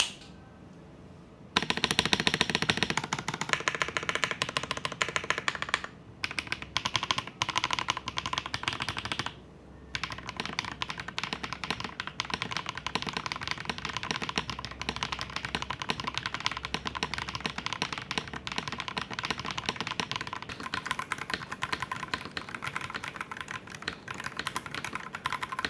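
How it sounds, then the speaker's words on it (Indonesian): Fantech Atom Pro 66 keyboard fitted with HMX SC switches, typed on continuously in rapid, close-up clacking bursts with a couple of brief pauses. "Dan untuk switchnya gue pakai HMX SC, upgrade dari sisi feel tentu aja lebih smooth, dan suaranya juga jadi lebih keluar ya"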